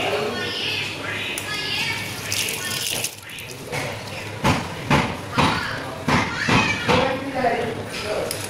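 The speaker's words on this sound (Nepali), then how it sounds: "दुईचोटि गरिसकेपछि चाहिँ यसबाट अब सफा पानी बिस्तारै आउँछ है" Clean tap water runs steadily into a sink while tripe is rinsed, a continuous close splashing wash broken by short louder bursts of handling, with a voice talking over it.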